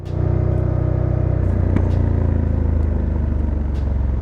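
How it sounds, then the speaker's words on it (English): A Ducati Scrambler 1100 Dark Pro, an L-twin motorcycle, idles after a cold start with a bassy, raw exhaust note, a steady close-up loud throbbing rumble with no talk over it. "Man, it greets you with a bassy and raw exhaust note."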